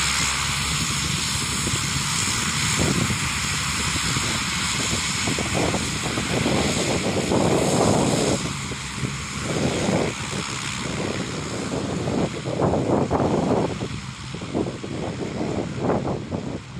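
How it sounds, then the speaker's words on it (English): An airplane taxiing down a runway and taking off, with a loud, steady propeller engine drone that swells and surges throughout, roaring close by with no talk. "It's taxiing down the runway,"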